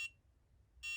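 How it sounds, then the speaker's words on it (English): Alarm on a Nintendo Game & Watch Octopus widescreen handheld (OC-22): shrill electronic buzzer beeps, one ending and another starting a second later, close and clear with a quiet gap between. "All right, so that's the alarm going off."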